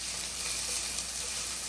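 Onions frying in hot oil in a pan for cheesy sausage buldak noodles give off a steady, close, dense sizzle that holds evenly throughout with no talking.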